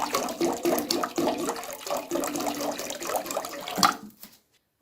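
Water splashes into a cooking pot while making apple murabba, a loud, steady gushing pour with bubbly surges that cuts off near the end, leaving brief silence.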